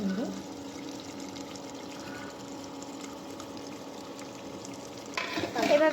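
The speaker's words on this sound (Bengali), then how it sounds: "এভাবে কিছুক্ষণ পর পর লাড়িয়ে দিতে হবে, ঘন ঘন লাড়তে হবে।" A spoon stirs a thick milk-powder dish in a pot, giving a steady bubbling, scraping simmer close up, with louder scraping near the end.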